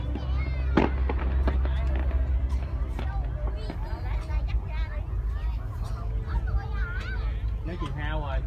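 Fireworks at a Vietnamese celebration of the 30 April holiday crack and pop in scattered bursts throughout, with nearby spectators chatting and exclaiming over the steady rumble.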